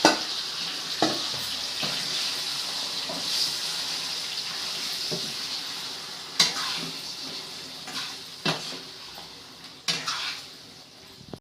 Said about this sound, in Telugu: చేపల పులుసు చేసేటప్పుడు ఇది ముక్క విచ్చిపోకుండా మంచిగా మెల్లి కలపాలి.